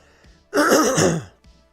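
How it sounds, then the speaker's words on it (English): A single harsh, throaty cough or throat-clearing burst, close and loud, lasting under a second between quiet moments. "I'm going to have a quick wee coughing fit"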